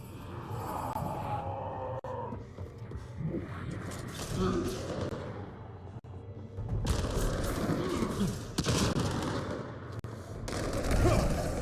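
Gunfire in Mass Effect: Andromeda: scattered shots and bursts of automatic fire crackle through a busy combat soundscape, louder in the second half, while a voice talks over it.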